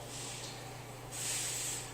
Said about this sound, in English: I'm going to spray it with some food ready spray